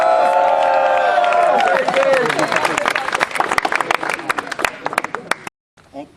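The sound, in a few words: audience applause and cheering at a rap battle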